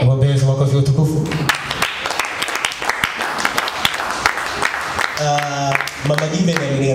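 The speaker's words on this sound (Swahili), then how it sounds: "Wapendwa makofi utukufu." A congregation claps and applauds during a church service, with a burst of rhythmic clapping between stretches of amplified voice and music.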